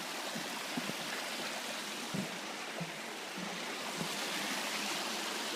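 Rushing river at the base of an escarpment near a creek bridge, a steady broadband roar of flowing water with faint splashes and occasional low thumps, no voices.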